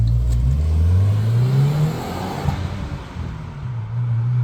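Turbocharged engine of a 2025 Subaru WRX revving hard from inside the car, a loud muffled drone that climbs in pitch, lifts off, then settles and builds again.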